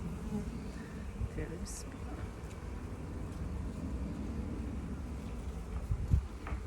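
A steady low insect hum of many honeybees buzzing close by at a hive, continuous throughout with a faint rumble underneath.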